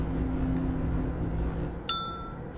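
A single bell in the Myst video game strikes once with a bright ring that decays slowly, over a low steady ambient hum.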